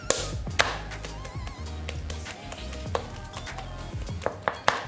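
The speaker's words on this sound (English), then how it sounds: "if you hit it with your wooden spoon, it should sound like this" A wooden spoon taps red velvet cake batter in a bowl, giving a series of sharp, irregular knocks and slaps over a soft background.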